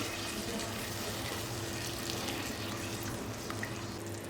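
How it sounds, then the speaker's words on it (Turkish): Water pours steadily into a pan of sautéed vegetables, a continuous soft splashing and trickling with no talk over it. "Yeterince kavurduktan sonra bir su bardağı su ilave edip şöyle suyla birlikte bir taşım kaynatıyorum."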